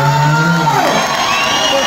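A live concert crowd at a music show cheers and whoops loudly and continuously, a dense roar of many voices close around, with a singer's voice audible over it.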